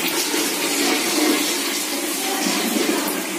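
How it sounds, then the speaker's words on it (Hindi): Water steadily rushes into a toilet flush tank as it refills after flushing, a continuous close hiss and gurgle of filling water with no pause across the few seconds. "ये पानी इसमें वापस फिल अप कर रहा है"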